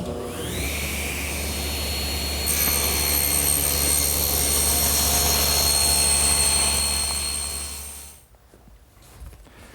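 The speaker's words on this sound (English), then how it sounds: "my homemade panel cutter, and it's perfect for squaring up wide boards or panels" Homemade panel cutter saw trimming about three quarters of an inch off a wide board: a loud, steady motor whine with a higher cutting screech joining partway, then spinning down near the end.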